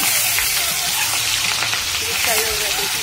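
Boiled eggs frying in hot oil for egg curry give off a steady, dense sizzle with crackling pops, loud and close throughout.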